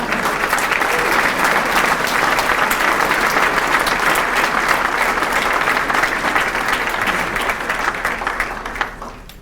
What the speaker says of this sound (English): let's give a big round of applause for our 2016 Star.